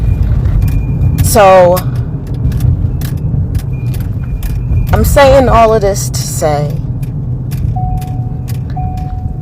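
Steady low road rumble and engine drone inside a moving car, continuous throughout, with a person talking over it and a brief faint jingle of keys.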